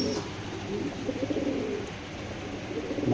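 Giribaz pigeons cooing in soft repeated low calls, close and fairly quiet over a faint background hiss, with no talking.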